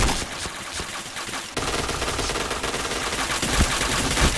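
Video game gunfire rattles in dense, continuous bursts throughout, loud and close, with sharper shots near the end and no voices heard.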